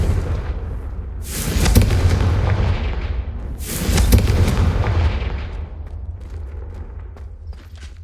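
Two heavy, booming fire blasts from the Confringo spell in Hogwarts Legacy, set in the Castle of Rookwood, each erupting loudly and rumbling away over a low continuous drone.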